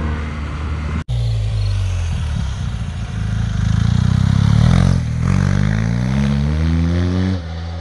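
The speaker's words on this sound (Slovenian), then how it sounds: "Motor je tudi opremljen s quick shifterjem, pa vam bom zdaj pokazal," A BMW R 1250 GS motorcycle with a boxer engine and quick shifter accelerates loudly up close, its engine note climbing through rising revs with a sharp clunk and brief cut near the start, then a clean shift and fresh rising pull near the end.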